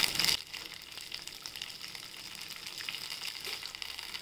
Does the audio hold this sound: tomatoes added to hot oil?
yes